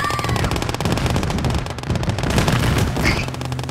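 Anti-aircraft gun in Gates of Hell firing rapid, loud, close bursts of automatic shots in a dense rattling stream, with booming impacts and a brief high whistle near the end.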